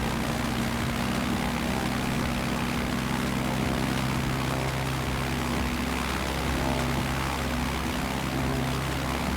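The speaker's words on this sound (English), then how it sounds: "Since I'm flying a bush plane," A bush plane's propeller engine drones steadily in flight over snowy mountain country in Pakistan, a loud, continuous hum with stable low tones holding unbroken for the whole stretch.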